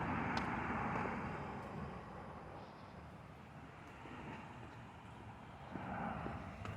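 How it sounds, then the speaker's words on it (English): Road traffic rumbles past on foot, a broad steady roar of passing cars heard at a moderate distance, swelling slightly near the start and end, with no talking. "I'm about to be getting a bunch of car noise."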